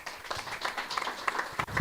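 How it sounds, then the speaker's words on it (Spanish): A congregation at a Sunday church service applauds, a faint, dense patter of many hands clapping at a distance, steady for a couple of seconds. "Dale un aplauso fuerte al Rey"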